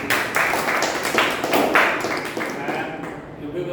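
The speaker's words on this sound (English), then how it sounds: "A big round of applause for all the speakers" Applause from an online Toastmasters meeting audience, mostly a dense run of claps lasting about three seconds and then fading out.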